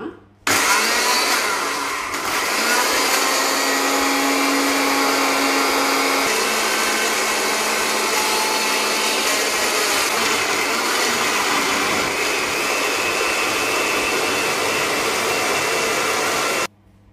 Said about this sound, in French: Et je vais maintenant les mixer. Voilà, ça va faire beaucoup de bruit